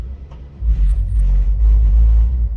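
Loud low-frequency thump and rumble from a car parked outside a hair salon, its stereo bass booming steadily and swelling after a brief quieter moment, with no talking.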